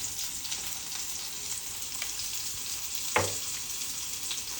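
Mustard seeds spluttering and popping in hot oil for tempering, a steady sizzle with one louder pop near the end, no talk.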